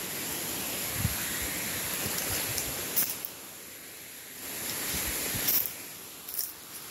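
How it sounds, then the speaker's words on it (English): A waterfall pours in a steady broadband rush on an outdoor hike, constant and fairly loud, with faint breezy fluctuations and no voices. "There's the waterfall."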